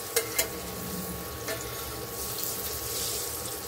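Large chunks of potato fry in hot oil with a soft, steady sizzle, faint and fairly distant. A couple of sharp clicks come near the start, and no one speaks.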